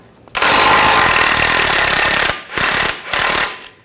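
An impact gun with a 21mm socket rattles a nut loose on the control arm of a 2009-2010 BMW 535i xDrive, one long loud burst followed by two short ones.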